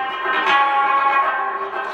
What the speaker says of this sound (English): No, it's called Afghanistan Sand Rabab.